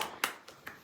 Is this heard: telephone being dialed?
no